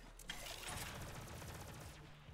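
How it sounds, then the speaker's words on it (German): The legendary Tsunami gun fires in Borderlands 3, letting out a rapid burst of shots with a rattling, mechanical edge, moderately loud and with no talking over it. "Oh, die hat aber einen coolen Schuss."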